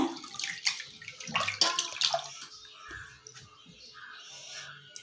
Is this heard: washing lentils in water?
yes